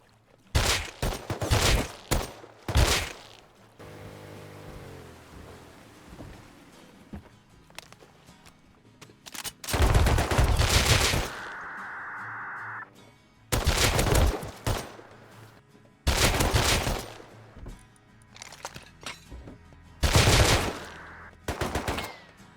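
SKS rifle fire in the game Rust, loud close bursts of rapid shots in several separate volleys, with quieter footsteps and ambient game noise between them.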